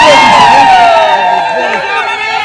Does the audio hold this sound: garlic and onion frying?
no